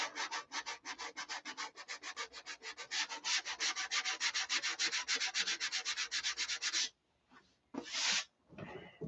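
A wooden cap strip being hand sanded with rapid, rhythmic back-and-forth strokes that run steadily and close for about seven seconds, then stop, followed by a couple of brief scrapes.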